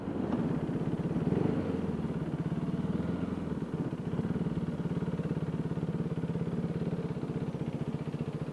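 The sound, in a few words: KTM Duke 390 motorcycle riding and parking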